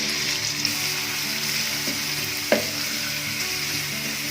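Onions fry in a little oil in a kadai with a steady, close sizzle and a faint crackle, and a single brief clink of a spoon against the pan partway through, without any talking.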